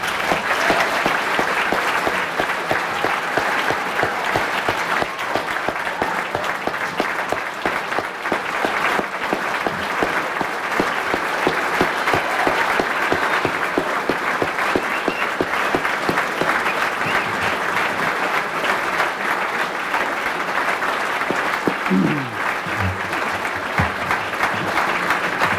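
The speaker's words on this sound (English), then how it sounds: "Let's give a round of applause for Heather." Steady, vigorous audience applause at an athletic awards banquet continues for over twenty-five seconds, evenly dense throughout, with a faint voice surfacing briefly near the end.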